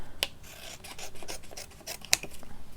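Scissors trimming paper cards by hand, close rasping snips and rubbing paper in a steady rhythm, with two sharp clicks of the blades standing out.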